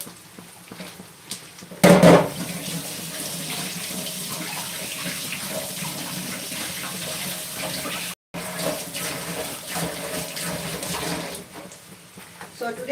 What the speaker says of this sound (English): I'll just wash my hands and join you back.